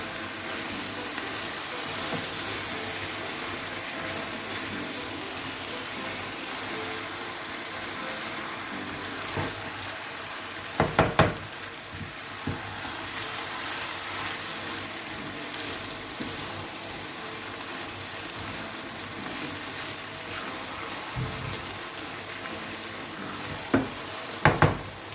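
Chicken yassa mixture in a pan, a steady low sizzle under intermittent stirring and scraping, with a couple of louder clattering knocks of the utensil, close and with no voices.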